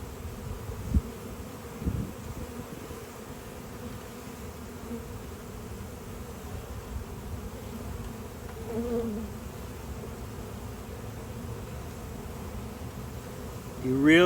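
Honeybees buzz in a steady low hum during a beehive inspection, with faint handling noises and occasional quiet talk in the background.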